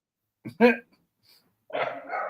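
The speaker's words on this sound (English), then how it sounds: "Making the other fucking dog bark though" A dog gives two quick sharp barks up close, then a rougher bark-like burst follows after a short pause, with no other sound between them.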